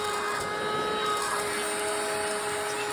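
A vacuum cleaner runs steadily at close range, a continuous broadband whine with a faint tonal hum, unbroken and without talk.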